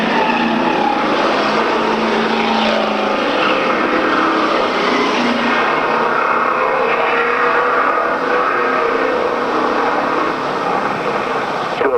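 A Grand Prix race car roaring at a 1995 circuit race as the winner takes the checkered flag, a continuous loud engine drone filling the scene with a steady, slightly wavering pitch and broad crowd and track noise underneath.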